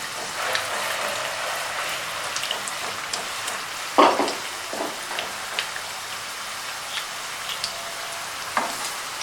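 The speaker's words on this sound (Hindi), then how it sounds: "इसको फ्राई कर लेते हैं।" Bottle gourd koftas deep-fry in oil in a kadai, a steady bubbling sizzle with sharp crackles and pops and occasional spoon knocks, close up and with no speech.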